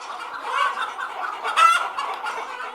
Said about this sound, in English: An almost extinct breed of chicken endemic to this area has been revived.